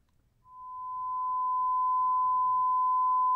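A JBL 2441 compression driver plays a pure sine test tone that starts abruptly, then holds one steady pitch, clear and alone, swelling slightly in level.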